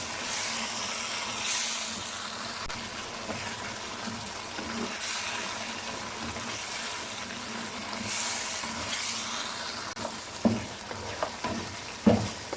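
Mutton karahi, Lahori style, sizzles loudly in a pan with ginger and green chilies as the meat is stirred and fried, with scraping strokes, a few sharp clanks near the end, and no speech.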